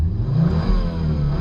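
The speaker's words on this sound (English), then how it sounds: "So you rev it up as much as you want, no issues." A Volvo S60R engine revs up close in one short, loud burst, its rising roar carrying some mechanical clatter, with no voices.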